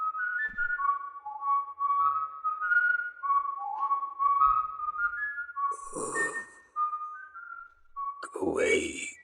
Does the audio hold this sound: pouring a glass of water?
no